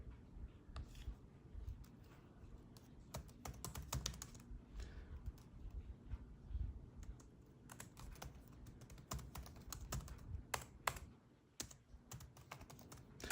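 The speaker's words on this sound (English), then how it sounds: "Kind of hard to type when you're working around a tripod with a camera on it" A search is typed on a computer keyboard by someone working around a camera on a tripod. Quiet, uneven bursts of key clicks run through the whole stretch, close up and alone, with short pauses between runs of keystrokes.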